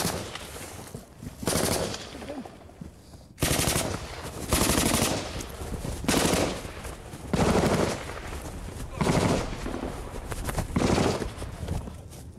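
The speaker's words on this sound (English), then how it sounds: "they're covering fire with the SA-80" SA-80 rifle covering fire crackles through a rooftop firefight, sharp bursts and single shots repeating across the whole stretch with brief gaps, loud and close, while Minimi gunfire and faint voices mix in.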